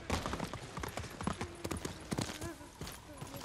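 Horse hooves clatter at a gallop in Ghost of Tsushima, rapid irregular thudding clip-clops up close, with faint tonal game sounds underneath.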